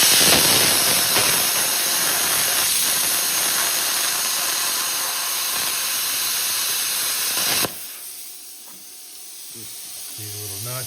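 A budget Yes Welder plasma cutter slices through metal with a loud, continuous hissing roar for about seven seconds, then cuts off abruptly, leaving a quieter room with faint clatter.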